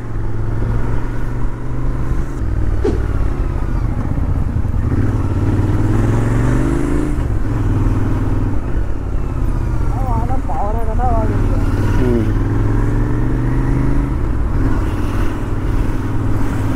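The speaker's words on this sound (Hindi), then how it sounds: "मैं अभी मेरे बाइक के पीछे बैठा हूँ, मेरे दोस्त को चलाना था" A 2023 BS VI Himalayan motorcycle is ridden with a passenger on the back, its engine giving a steady, loud road drone with mild throttle changes and wind rush throughout, while a voice talks over it.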